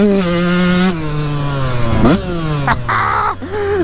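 A Yamaha YZ144 two-stroke dirt bike fitted with a thumb throttle, ridden close by at full throttle, its engine buzzing high, dropping between shifts, then revving up again in sharp bursts.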